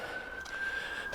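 Siren wailing at a distance behind an allotment garden, a steady high tone held at moderate loudness through the short stretch, with no voices over it.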